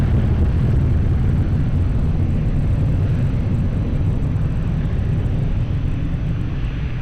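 An Airbus A320 at Lisbon Airport rumbles loud and close, a heavy continuous low engine roar holding steady throughout with no voices.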